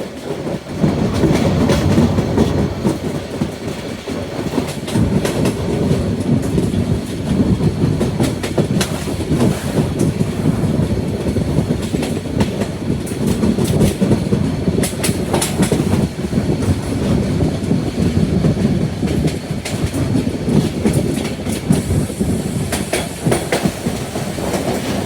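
Cox's Bazar Express train rolls steadily onto the Bhairab bridge, a loud continuous rumble with rhythmic wheel clatter and occasional sharp clicks from the rails, heard from onboard for the whole span.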